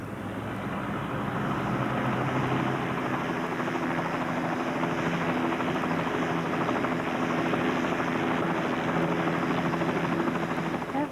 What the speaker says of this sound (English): There's a helicopter going over.